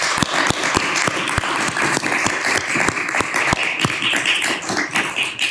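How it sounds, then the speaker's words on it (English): A crowd applauds with scattered sharp claps forming a steady, lively patter throughout, no voices over it. "please, another round of applause?"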